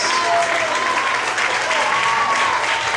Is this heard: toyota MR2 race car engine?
no